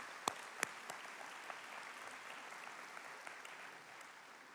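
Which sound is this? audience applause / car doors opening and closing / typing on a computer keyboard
audience applause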